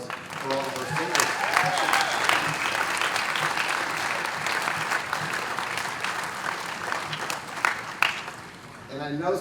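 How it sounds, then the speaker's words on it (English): Audience applause for the singers at an outdoor municipal band summer concert, a sustained crowd of clapping that holds steady for several seconds, close and dense, with a voice over it early on. "How about one more round of applause for all of our singers?"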